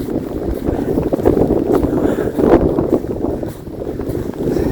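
Steady, roaring wind gusts buffet the microphone on the open Norwegian tundra of Hardangervidda, a continuous low rumble that swells and dips without pause.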